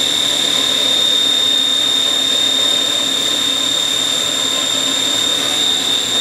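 The spindle of a Haas HS1RP horizontal machining center turns at 5000 RPM, giving off a steady, continuous high whine over a constant mechanical hum with no pauses.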